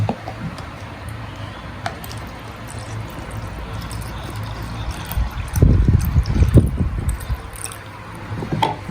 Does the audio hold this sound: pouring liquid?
yes